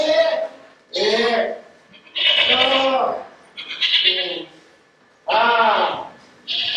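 In a stage play, a human voice imitates goat bleats: five or six loud, wavering calls, each about a second long and separated by short pauses.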